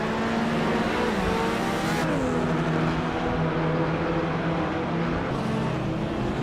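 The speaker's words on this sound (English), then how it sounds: "Baskerville's tight corners are favoring the Maseratis with quick lap times, while the longer straights are giving the Jaguars and Ferraris a chance to catch up." Video game race cars, Maseratis, Jaguars and Ferraris, lapping a circuit with tight corners and long straights, a loud continuous engine roar with shifting pitch as they accelerate and change gear, dense and unbroken throughout.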